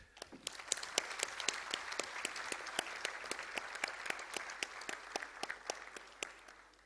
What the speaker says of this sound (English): Please join me in offering a big applause for your grand achievement.